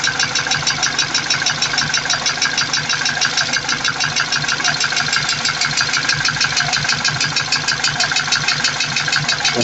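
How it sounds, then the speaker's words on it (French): A Peugeot 206 CC S16 engine with freshly replaced hydraulic lifters runs loud and close, holding a steady, rapidly pulsing idle rhythm throughout with no clear rise in revs. "on mettra quelques coups de gaz pour voir ce que ça donne en montant dans les tours"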